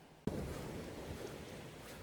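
Strong sea waves breaking on a beach in Pohang, Korea, a broad steady roar of surf that starts abruptly and continues loud, with wind buffeting the microphone.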